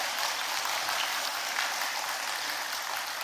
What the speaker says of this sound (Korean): 우리 먼저 자녀들에게 힘내라고 응원의 박수 한번 해주시면 감사하겠습니다